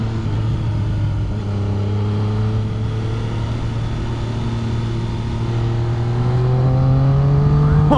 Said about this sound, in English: this bike does have an aftermarket Arrow exhaust on it, and it sounds bloody brilliant